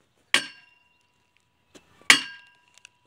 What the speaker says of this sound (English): It sounds like a crowbar hitting it.